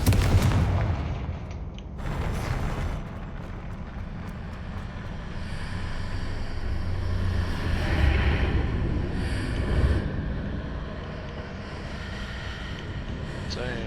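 A Confringo fire spell explodes in Hogwarts Legacy, a loud booming blast up front followed by rumbling, crackling aftermath and game ambience that fades over several seconds, with a brief voice near the start.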